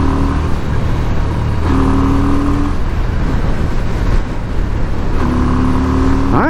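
A 1988 Yamaha Virago 250 motorcycle accelerates hard on a highway, its engine note climbing through gears with brief drops between shifts, all under a steady, loud roar of wind and road noise.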